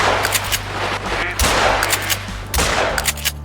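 Gunfire at waterfowl in the hunting game Call of the Wild: loud, sharp shots crack in quick bursts, with three clustered volleys close and forceful and brief gaps of ambient noise between them.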